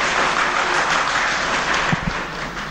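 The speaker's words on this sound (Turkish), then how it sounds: "Alkışlama olmasın lütfen" An audience at a religious lecture on Sufism in Erzurum claps in a dense, steady wash of applause that stays even throughout, with a couple of low thumps near the end.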